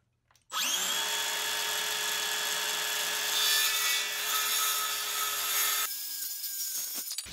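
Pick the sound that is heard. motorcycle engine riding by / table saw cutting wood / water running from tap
table saw cutting wood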